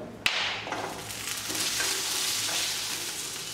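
Garlic, ginger and green chili drop into a hot pan for a Tamil mushroom salna, setting off a sharp initial hiss that settles into a steady, close, crackling sizzle of frying.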